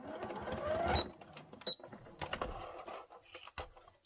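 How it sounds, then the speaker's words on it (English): A sewing machine stitches and backstitches fabric, quick mechanical whirring bursts close by with pauses between runs, fairly faint. "And then you get to the end and you're going to backstitch again."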